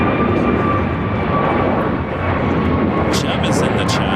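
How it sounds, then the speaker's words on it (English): An American Airlines Airbus A321neo takes off from LAX, a steady loud roar of jet engines filling the whole stretch with a faint high whine on top and brief brighter bursts near the end. "This is American 513 taking off to Philly on an A321neo."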